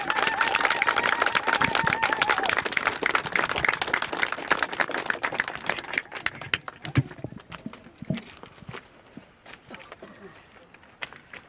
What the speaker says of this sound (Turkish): barış için alkış ve zılgıtla açıklamamızı tamamlayabiliriz